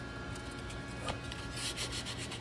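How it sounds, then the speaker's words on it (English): Sandpaper rubs over a wooden flintlock rifle stock in quiet, repeated scratchy strokes, faint and close, with no talking. "you're kind of looking to see where the sandpaper is cutting"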